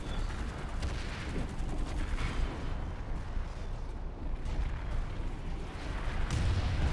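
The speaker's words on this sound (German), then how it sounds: "irgendwas schießt von oben runter" Gunfire rains down from above in the Planetside 2 video game, a dense, continuous crackle of shots and booming impacts of fairly even loudness throughout.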